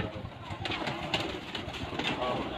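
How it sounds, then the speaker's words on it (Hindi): A champion Punjab-breed pigeon coos softly on a rooftop in Sheikhupura, a low faint murmur under someone talking nearby, with light background noise. "इनका माशाल्लाह बड़ा चैंपियन कबूतर है"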